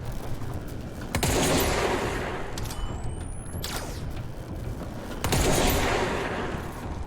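Rapid gunfire rattles in the video game Control, with heavy repeated bursts of shots layered over a constant loud roar of game noise for the whole stretch.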